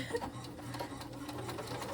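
A sewing machine stitches quilt pieces with a quarter-inch seam, running as a steady, close, continuous mechanical whir with fast rhythmic needle clatter throughout, no voices.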